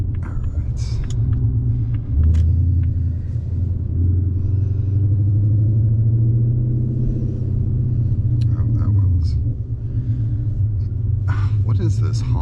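An 800 whp Ford Mustang on a night drive, its engine rumbling deep and loud from inside the car with rising and falling revs, while someone talks over it.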